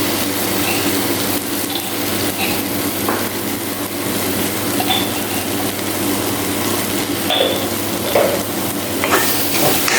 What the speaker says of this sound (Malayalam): തക്കാളി ചേർത്ത് നന്നായിട്ട് മിക്സ് ചെയ്യുക